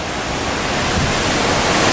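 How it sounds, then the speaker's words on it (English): High Force waterfall on the Tees roars with loud, continuous rushing water, a dense broadband wash heard close with no pauses. "Look at that force of the water, man."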